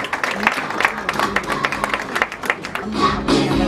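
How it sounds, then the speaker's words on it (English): Delegates at the Kenya National Carbon Registry launch applaud in a steady round of clapping, with crowd murmur and voices mixed in. "a warm round of applause"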